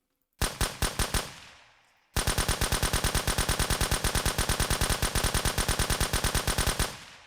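Semi-automatic Guardian rifle fire in the video game Surroundead: a short burst of about five sharp shots, a brief pause, then a long, rapid, even string of loud gunshots running several seconds without talk.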